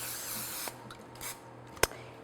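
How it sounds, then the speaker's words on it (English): Non-stick cooking spray is sprayed onto a cake baking pan in a home kitchen, giving one short, sharp hiss in a quiet room. "I'm just going to spray it with one of these non-stick sprays."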